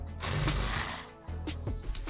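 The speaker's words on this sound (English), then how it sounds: "I begin drilling at a slight angle" A Milwaukee SDS hammer drill bores into brick at a slight angle, a loud rapid hammering buzz that runs, pauses briefly, then resumes in short bursts.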